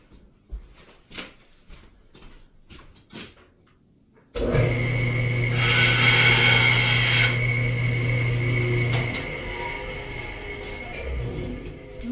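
A small wooden tail is trimmed off a workpiece: a few quiet rasping strokes, then a loud steady whirring power tool with a bright humming tone that drops to a lower drone.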